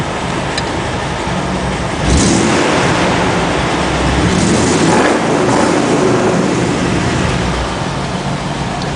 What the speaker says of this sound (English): I'll just give it a couple revs so you can see the tack